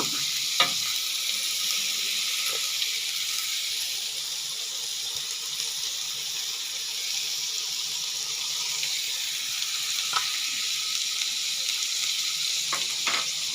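Pork with garlic and long beans stir-fries in a hot pan with a little salt, a steady loud sizzle broken by a few sharp clinks of a utensil stirring and tossing.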